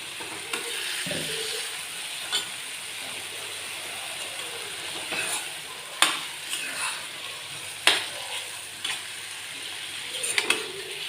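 Fried bitter gourd pieces cook in masala in a pan with a steady low sizzle, broken by several sharp spatula scrapes and clacks against the metal.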